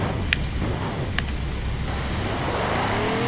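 A tuned car in The Crew, set up for a nitrous run on the salt flats, drones steadily at high engine speed and then swells upward, with two faint ticks along the way.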